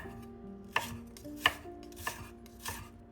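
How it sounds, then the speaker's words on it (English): A knife slices carrot into thin strips on a cutting board, giving four crisp separate chops spaced about evenly, close and clear with no talking. "Slice a piece of carrot, then cut it into thin strips."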